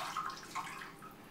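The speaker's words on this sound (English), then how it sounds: "Let it strain out." Water from a washed-lettuce salad spinner draining out of the lifted inner basket, a soft continuous trickle and splash with a couple of brief louder drips, close and quiet.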